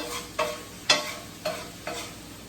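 Chicken fried rice scraped and pushed aside in a hot pan, four distinct scraping strokes at a steady rhythm over a low continuous sizzle, close and clear.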